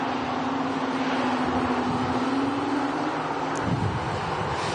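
Airbus A220 with Pratt & Whitney geared turbofan engines at Manchester Airport gives a steady, droning howl over a broad continuous roar, loud and unbroken, with no talking.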